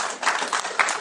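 A church congregation at a Pentecost service applauds in a brief burst of steady, dense clapping.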